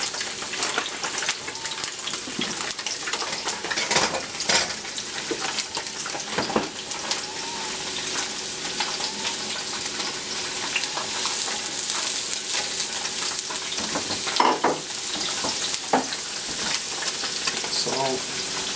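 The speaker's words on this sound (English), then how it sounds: "Stir the mushrooms and onions." Mushrooms and onions sizzle steadily in a hot pan while being stirred, with broadband frying hiss throughout and sharp utensil scrapes and clinks scattered across the stretch.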